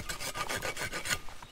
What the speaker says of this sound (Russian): А ну ж проверим, как она пилит.